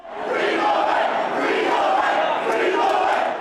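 A large crowd of excited tennis fans gathers outside lawyers' offices at the Rialto, hoping to glimpse Djokovic as a car emerges. Their shouting and cheering rises and holds loud and dense throughout, with no single voice standing out.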